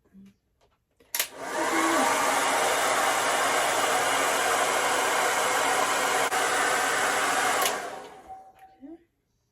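Hair dryer fitted with a diffuser cup drying curly hair, a loud steady whooshing blow switched on for about six seconds then cut off, with brief quiet moments before and after.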